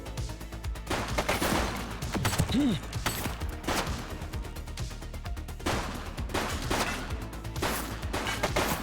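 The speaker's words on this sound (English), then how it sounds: "Shots fired! Target is down." Rapid gunfire bursts from The Precinct police game, loud and repeated in several volleys across the scene, with brief pauses between salvos and faint game voices underneath.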